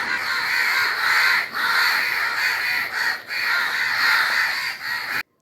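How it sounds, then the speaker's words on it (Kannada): Many crows caw loudly and continuously, their harsh calls overlapping in a dense, steady chorus with no voices. "ಯಾವ ಕಾಗೆ ಕೂಡ ತಿಂತಾ ಇಲ್ಲ ಎಲ್ಲ ಮೀಟಿಂಗ್ ಮಾಡ್ತಾ ಇದ್ದಾವೆ"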